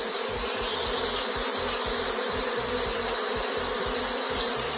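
A swarm of honeybees buzzes as it streams into a hive in a garden: a dense, steady hum of many wings, close and continuous throughout, with no voices.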